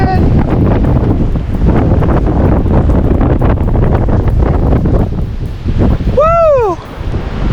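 Strong 50-60 mph blizzard winds roar and buffet across the microphone on top of Mount Si, loud and gusty throughout, with a brief whistling or squeaking tone near the end.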